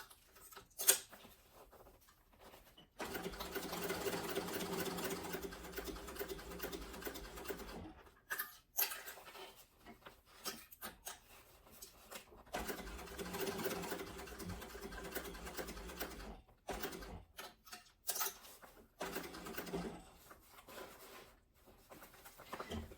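A sewing machine stitches the gusset and panel of a sling bag together in two long runs of steady mechanical whirring, separated by short pauses, fairly quiet and close, with no talking.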